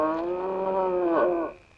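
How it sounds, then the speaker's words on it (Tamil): A neighbour's cow moos in one long, loud, drawn-out call that bends near the end and fades out, heard alone up close. "அந்த பக்கத்து வீட்டு பசுமாடு அப்ப பிடிச்ச ஒரு மாதிரியா கத்திட்டு இருக்கு"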